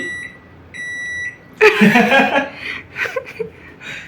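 A home microwave oven beeps twice with steady high electronic tones, then people laugh and chuckle loudly nearby, with talk in the room.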